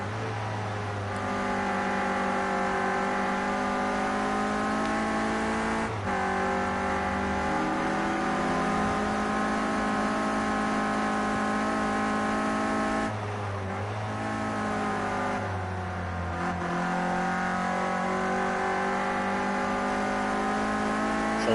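A Renault Clio Cup race car is heard from onboard during a lap of the Brands Hatch Indy circuit, its engine loud and constant, climbing through the gears with brief dips at upshifts and braking points.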